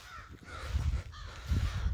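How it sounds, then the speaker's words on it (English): Crows cawing in a few harsh, scattered calls outdoors beside parked 1987 Yamaha TZR250 and FZR 400 motorcycles, over low wind-like rumble, at moderate distance. "Got to ignore the crows there."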